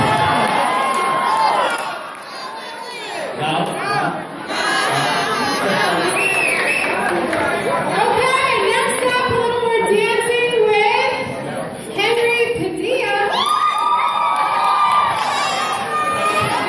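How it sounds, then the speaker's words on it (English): A high school talent show audience screams and cheers loudly, with many young voices shrieking and shouting together in bursts that briefly dip and swell again across the whole stretch. "I haven't heard a scream like that"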